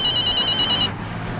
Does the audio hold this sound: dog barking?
no